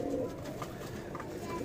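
Madrasi Punjabi pigeons kept for sale in Vikas Nagar, Delhi, including a red-winged hen, give a brief, faint, low coo under a muffled background hum.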